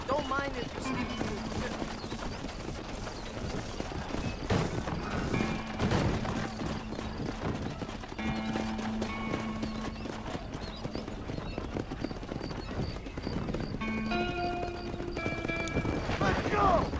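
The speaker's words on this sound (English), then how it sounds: "Get them horses moving!" Horses pulling a wagon clip-clop steadily through a Red Dead Redemption game scene, hooves thudding in a continuous rhythm with occasional whinnies, under ongoing voices and background game music.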